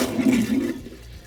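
Vacuum toilet flushing on a boat during freshwater-system winterizing, a short forceful whoosh of water and suction that cuts off abruptly after under a second.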